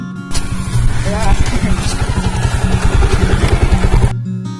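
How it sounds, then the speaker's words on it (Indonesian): A motorcycle climbs a mountain trail on Gunung Lembu in Purwakarta, its engine loud and close with rapid throbbing pulses, chugging steadily for about four seconds before cutting off. "motor loh, naik gunung loh di sini"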